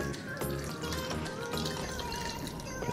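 Paper pulp being wrung out inside a floor cloth, with close, continuous trickling and dripping water running steadily throughout.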